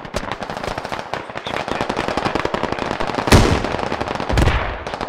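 Rapid gunfire in the tactical shooter SquadOps, dense automatic bursts with crackling shots, loud and close, plus a heavier blast around the midpoint and another near the end.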